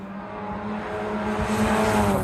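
A BMW race car, number 106, comes down the hill on the VIR road course during an SCCA club race, its engine a loud, steady, rising roar as it approaches and passes close by with no talk over it.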